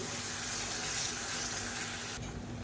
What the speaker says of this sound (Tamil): இப்போ மிக்சி அலசிட்டு கொஞ்சமாக தண்ணி சேர்த்துக்கிறேன்